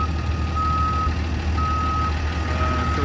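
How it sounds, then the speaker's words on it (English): A tow truck's reversing alarm beeps steadily in a repeating pattern over a low idling diesel rumble, pulling a truck out of a backyard swimming pool. "Tow truck currently taking it out of here."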